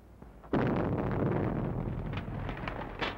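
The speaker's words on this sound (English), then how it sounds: "Explosion in 93 Madeira Drive." A sudden explosion at a house on Madeira Drive in a 1937 crime film sets off a loud, rumbling blast with a sharp onset that rolls on for a few seconds before easing.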